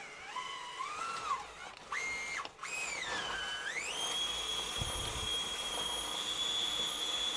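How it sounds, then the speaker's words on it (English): Axial SXC30 RC truck with a Bronco body powering through a mud pit at full throttle, its small electric motor whining loudly with rising and falling pitch as the throttle surges, close and steady throughout. "Full throttle mud pitting time."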